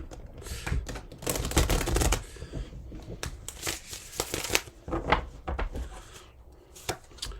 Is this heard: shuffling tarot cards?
yes